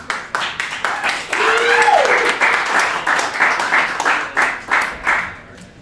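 Crowd at a Monday night stand-up comedy showcase in Chicago claps in loud swelling bursts that fade and return, with a voice talking over part of the applause.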